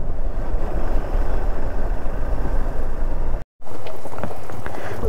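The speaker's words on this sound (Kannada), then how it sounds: "ಈ ರೇಂಜಿಗೆ ಹೆವಿ ಮಳೆ ಬರ್ತಾಯಿದೆ" Heavy rain pours steadily in a forest near Masinagudi in the Bandipur tiger reserve, a dense loud wash that cuts out briefly, then resumes with sharper patter of drops on a close surface.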